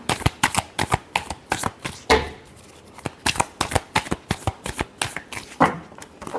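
Tarot cards being shuffled during an astrology reading, loud, close riffling bursts in a quick irregular rhythm, with one brief pause before the shuffling resumes.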